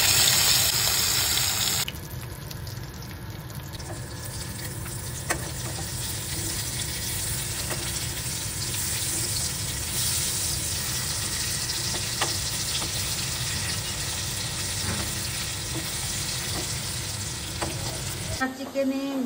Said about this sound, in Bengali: এবার আমি ফ্রাই করে নিব।